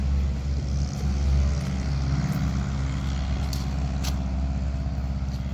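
A yellow crop-dusting airplane taking off from a rural runway near Lebanon, Oregon: a steady, loud propeller engine drone, fairly close and continuous, with no talking.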